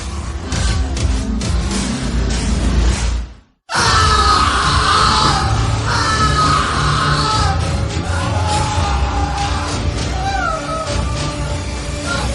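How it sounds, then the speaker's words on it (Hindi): Loud, sustained screaming and anguished yelling in a Hindi horror audio story, a man's cries echoing through a dark scene, with a brief silent break before the shrieks resume. "माहौल में बस कौशिक की चीखें गूंज रही थी।"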